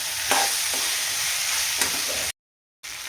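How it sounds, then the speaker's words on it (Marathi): Vegetables sautéing in oil in a kadhai over low heat for green chilli masala rice, a dense close sizzle with a few scraping stirs; it cuts out briefly near the end before resuming. "आता आपल्याला हे कमी गॅसवरती 1 ते 2 मिनटं छान तेलामध्ये परतून घ्यायच्या"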